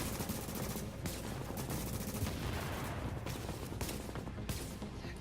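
Gunfire from the Historian weapon in the video game The Division, a dense, loud stretch of rapid shots and crackling blasts with sharp bursts throughout, no talking.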